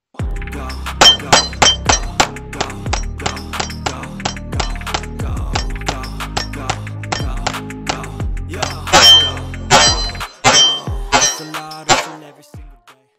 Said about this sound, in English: We're gonna go ahead and try to rapid shoot this guy and see how quick and easy we can put rounds on target.